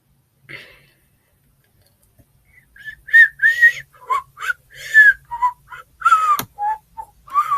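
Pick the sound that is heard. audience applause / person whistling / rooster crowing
person whistling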